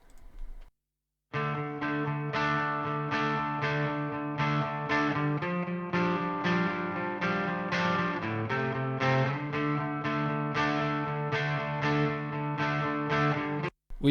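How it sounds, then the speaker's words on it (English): Distorted rhythm guitars from the intro of a song are heard soloed from the mix, playing loud, sustained strummed chords in a steady pulsing rhythm, with no talking. "We've got the rhythm guitars that come in."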